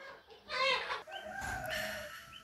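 Chickens in a poultry house give a couple of short, close clucking and squawking calls over a quiet background, with no one speaking.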